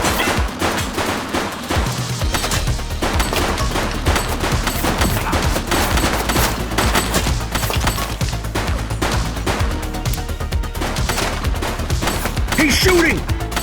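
Rapid gunfire rattles without letup in the police video game The Precinct, loud close bursts of shots packed tightly over a steady game soundscape.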